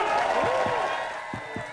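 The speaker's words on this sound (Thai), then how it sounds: "ขอเสียงปรบมือดัง ๆ ต้อนรับขวัญใจของพี่น้องครับ" Applause and crowd noise at a Thai political rally, a busy wash of clapping and cheering under loud voices, heard fairly close in a short burst.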